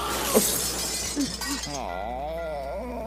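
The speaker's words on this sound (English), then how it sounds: "SpongeBob literally crashes into the fourth wall" A cartoon crash as SpongeBob smashes through the fourth wall: a sharp burst of shattering glass rings out, followed by a wobbly, sliding cartoon tone that fades away.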